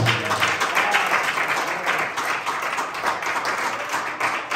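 A church congregation claps and applauds during afternoon Sunday worship, dense sustained clapping from many hands filling the room for several seconds, with faint voices mixed in.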